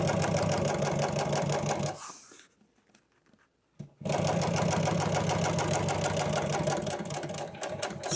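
A sewing machine fitted with a welt foot stitches a boat cushion, a loud, close, rapid steady chatter that breaks off for about two seconds of near-quiet with faint handling, then resumes just as loud.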